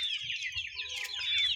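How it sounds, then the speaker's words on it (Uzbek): Andijan black chickens cluck close by in quick, high, chattering calls that overlap one another over a quiet low background. "Andijon qora jo'jalari."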